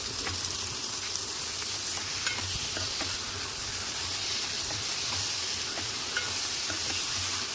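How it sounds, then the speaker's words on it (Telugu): Chopped tomatoes sprinkled with salt sizzle steadily in a pan as they are stirred, a continuous close frying hiss with faint scraping and light ticks throughout; no speech. "టమాటా పైన కొంచెం సాల్ట్ వేసుకుందాం. ఇప్పుడు ఒకసారి కలిపేసుకుందాం మొత్తం."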